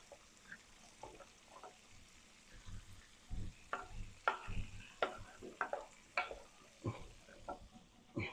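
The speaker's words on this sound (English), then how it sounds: "I'm just gonna put the top on and let them simmer down." A covered pot of sweet peas simmers quietly on the stove, giving faint, irregular bubbling pops and soft crackles close by, with no talk.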